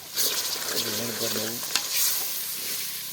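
Onions frying in a pan for a curry give a close, steady sizzle with stirring and scraping against the metal, and a short patch of faint voiced sound runs under the frying in the middle.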